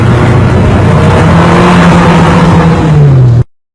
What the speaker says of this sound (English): And this engine just pulls and pulls and pulls and pulls.